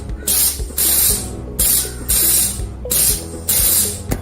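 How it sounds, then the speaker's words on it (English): An Electroweld 100 KVA press-type spot welder joins 3 mm plus 3 mm steel sheets, giving five loud, sharp hissing bursts in a regular rhythm with short mechanical clunks between them. "Show you the welding of 3 plus 3 mm thick sheets."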